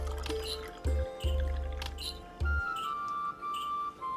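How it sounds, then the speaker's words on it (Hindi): Water pours and splashes into a mixture of honey and other ingredients in a bowl, wet dribbling and squishing sounds in uneven bursts over low thumps. "फाइनली इसमें पानी डालेंगे"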